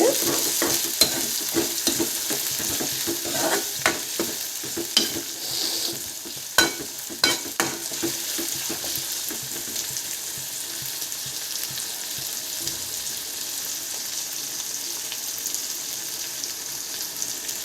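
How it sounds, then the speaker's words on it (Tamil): Onions sauté in a pan for Tamil tomato kadayal, giving off a steady, moderately loud sizzle punctuated by the scrape and clatter of stirring, with no voices heard. "வெங்காயம் நல்லா வதங்கணுங்க அதுக்காக ரொம்பவும் கருகிடக்கூடாது"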